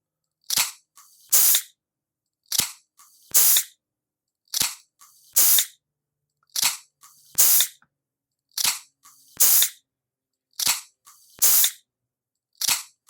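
Sampled Coke can sounds played back as sharp clicks and crisp hissing bursts in a repeating pattern, paired hits separated by silence, loud and dry.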